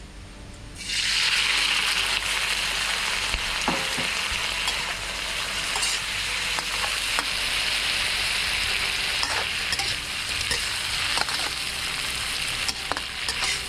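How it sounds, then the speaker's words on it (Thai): Shrimp hit hot oil in a wok for chilli-salt shrimp, bursting into loud, steady sizzling and frying that continues unbroken, with occasional scraping stirs and no talk. "น้ำมันก็เริ่มร้อนแล้วนะครับ กุ้งครับใส่ลงไปเลย"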